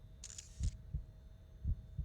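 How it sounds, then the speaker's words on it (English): Cell phone camera shutter sound effect in the visual novel Chaos;Head Noah, a quick crisp click-burst heard once, set against a low rhythmic throbbing pulse. "I heard the sound of a cell phone's camera shutter"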